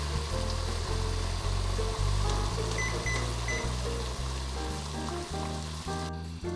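Teriyaki sauce simmers over low heat in a pan, giving a steady soft bubbling crackle over a constant low electrical hum, close and uninterrupted, with no talk.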